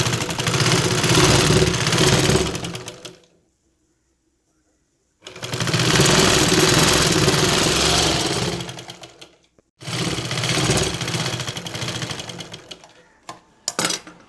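A sewing machine stitches the neck of a churidar on fabric, running in three loud steady bursts of several seconds each, separated by short pauses, with no talk over it.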